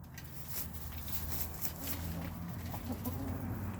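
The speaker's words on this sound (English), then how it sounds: "Olivia, she's usually the first one up there in the roost" Pet chickens clucking at the roost at bedtime, soft repeated clucks and low murmuring calls from several birds close by, steady and unhurried with no talk over them.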